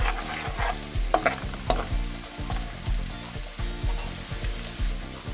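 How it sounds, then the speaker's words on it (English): Garlic and bay leaves fry in a pan for a chicken masala, with a steady loud sizzle and spatula scraping and stirring strokes repeating throughout; no voices. "Let garlic get a bit of that brown color on it."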